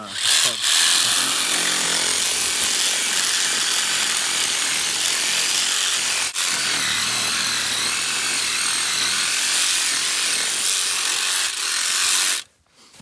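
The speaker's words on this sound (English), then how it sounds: "thank you to Dewalt for a very nice sawzall" A DeWalt 20-volt reciprocating saw cuts through a moose carcass during field dressing in Alaska, giving a loud, steady buzzing drone for about twelve seconds with one brief break midway, then stopping abruptly.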